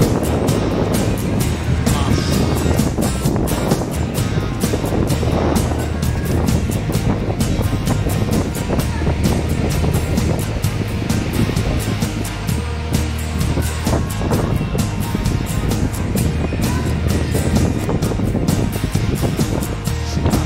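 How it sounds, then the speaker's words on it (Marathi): A ferry launch under way at sea gives a continuous loud rumble of engine and rushing water, with a steady low hum and wind buffeting the microphone throughout. "लॉन्च बघूया कसा येतो."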